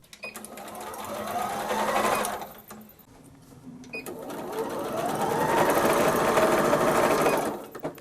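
A home sewing machine stitches medical face masks in two long runs of fast, steady whirring chatter, close and loud, with a brief pause in between and no voices.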